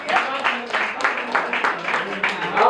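An audience at a kavi sammelan poetry gathering claps in rhythmic, repeated bursts of moderate loudness, with voices mixed in among the clapping.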